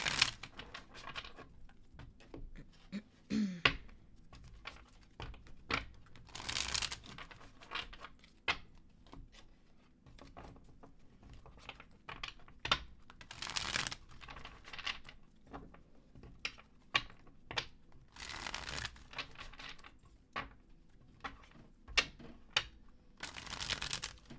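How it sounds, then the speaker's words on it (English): Tarot cards being shuffled at close range in repeated quick riffling bursts and soft slaps, with papery rustles between them and no talk over the sound. "Let me just shuffle for you real quick."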